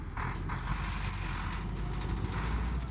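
Toy garbage truck sound: a steady low engine rumble with repeated rhythmic clicks and thumps riding over it, continuous and fairly loud, no voices.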